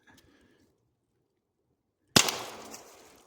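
A Pistelle X-68 non-lethal launcher fires and its round strikes a NoCry UltraShield face shield: one sharp, loud crack that bursts out after two seconds of near silence and trails off in a short, rough decay.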